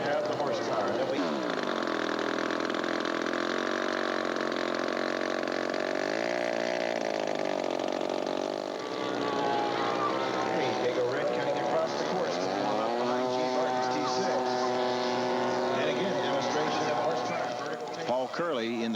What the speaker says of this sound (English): Scott Broughton, taxied the DW aircraft-sponsored P-51 right behind him and awaited the release for takeoff